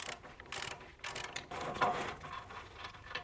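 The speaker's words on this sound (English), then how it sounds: "Then I'll grab my 19mm socket and loosen off this castellated nut." Ratchet with a 19mm socket loosening a castellated nut on a tie rod end of a Toyota Landcruiser, giving a fast, close, irregular clicking of the pawl in several short bursts.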